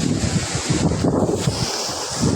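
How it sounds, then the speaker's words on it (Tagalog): Ocean waves wash over a rocky, pebble-strewn shore during monsoon weather, a loud close churning rush with gusty wind buffeting the microphone throughout. "Dito ako sa Dalampasigan. Maraming bato-bato."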